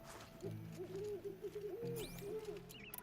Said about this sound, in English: I hear an owl.